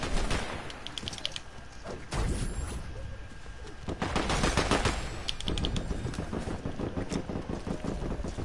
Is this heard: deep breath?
no